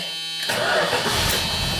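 A car engine cranks and catches after a brief quiet moment, then settles into a steady, rumbling idle close by, starting cleanly after a timing adjustment.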